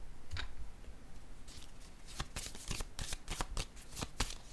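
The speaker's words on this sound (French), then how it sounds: "Je vais déposer une carte sur le départ." Tarot cards being shuffled, handled and laid down, a run of crisp, close flicks and snaps against a steady hiss, with no voice.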